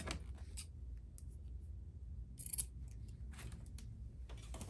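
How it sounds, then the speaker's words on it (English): Scissors snip through a length of double-fold bias tape at a sewing table while a bridesmaid dress is made, giving a few quiet, short crisp cuts spread across a low background hum. "I'm going to actually just cut a length of bias tape"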